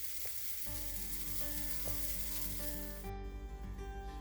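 Buttermilk chocolate chip pancake batter sizzles in a hot pan with a constant, close crackling fry and no voices.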